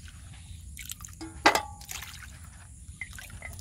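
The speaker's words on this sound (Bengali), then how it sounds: "মিষ্টি কুমড়াটা ধুয়ে নই" Cut pieces of sweet pumpkin are washed in water, with soft sloshing, one brief louder splash, then light trickling and dripping nearby.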